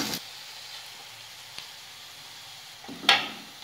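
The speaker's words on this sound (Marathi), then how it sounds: "आता आपण जिरं टाकूया, त्यानंतर बारीक चिरलेला कांदा। कांद्याला छान गुलाबी रंग येईपर्यंत आपल्याला परतून घ्यायचं आहे।" Finely chopped onion and cumin frying in hot oil give a soft, steady sizzle, broken by a few sharp clinks and a brief stirring scrape near the end, with no talking.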